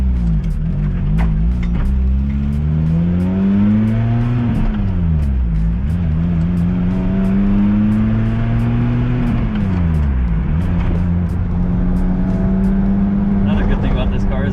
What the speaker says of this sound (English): you can hear the supercharger, even at idle, just kind of whirring away.